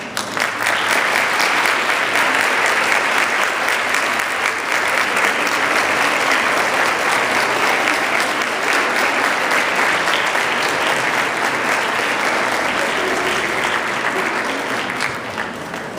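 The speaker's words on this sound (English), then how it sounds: "I would like to ask the class of 2013 to stand, turn, and applaud their parents and other family members" St. Hubert Catholic High School for Girls' class of 2013 applauds at graduation, a large crowd clapping loudly and continuously for about sixteen seconds before tapering slightly.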